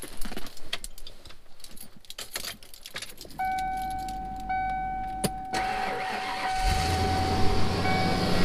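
A small gasoline engine idles steadily after a blown-out spark plug is replaced with a new one on the old wire, humming under a sustained whine, with some jangling and clanking up close beforehand.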